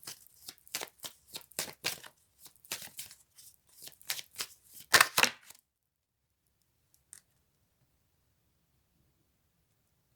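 A deck of tarot cards being shuffled by hand: a quick series of crisp riffling and slapping bursts for about five seconds, then silence with one faint tap.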